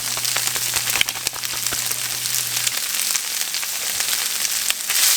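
Seasoned ground meat browning in a pan for taco salad, a steady close sizzle and crackle of frying with a faint low hum underneath for the first half.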